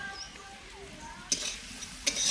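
Spices and salt being stirred into hot oil in a pan while frying, with a soft steady sizzle and two sharp scraping stirs of the spoon against the pan.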